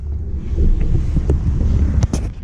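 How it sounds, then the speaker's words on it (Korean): Tesla Model S P100D electric car on a test drive, a steady low road and wind rumble with a few light knocks and rattles throughout, no talking. "지금 이제 모델 S P100D를 시승을 시작했는데요"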